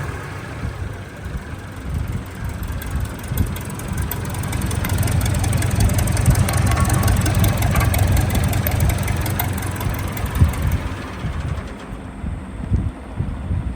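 A tractor engine, just rebuilt with new rings, sleeve and piston, runs at a steady rumbling idle with a knocking mechanical beat, loud and close, easing slightly toward the end.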